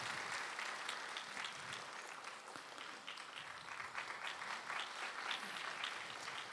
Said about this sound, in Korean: 우리 박수로 감사의 마음 드리겠습니다